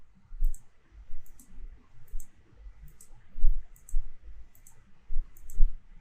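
A computer mouse in a presentation gives a series of sharp, light clicks, often in quick pairs, spread evenly across a few seconds against a faint low hum, with no talking.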